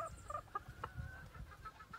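A hen clucks in short, choppy bursts close by but quietly, with a few rising calls over a low rumble of background noise.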